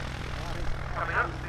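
A P-47D Thunderbolt fighter makes its final low pass at RAF Cosford airshow 2025, its piston engine giving a steady, loud droning roar that swells slightly near the end.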